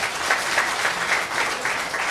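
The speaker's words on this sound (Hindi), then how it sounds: "इसके लिए जोरदार तालियां होनी चाहिए" An audience applauds at a training program session in Silvassa, a dense, even patter of clapping that pulses slightly and carries on without a break.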